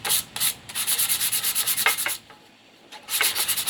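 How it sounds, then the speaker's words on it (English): An old tin can is sanded by hand to take off built-up dirt, a close, raspy rubbing in quick back-and-forth strokes with a short pause before it starts again. "I also want to sand some of this dirt and stuff off that's been on here for a long time"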